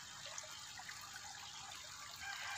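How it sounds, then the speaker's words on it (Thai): Water pumped up a pipe in a recirculating system pours back down into a pond on a celery farm, a faint, steady trickling and splashing flow with no voices. "สูบขึ้นบนท่อแล้วก็ไหลลงมาในบ่อนะครับแล้วก็ดูดขึ้นไป"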